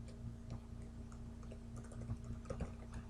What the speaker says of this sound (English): And I still have trouble typing